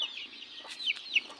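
Chicks in a dirt-floored pen give high, thin peeping calls, several quick chirps rising and falling over a soft background, fairly faint.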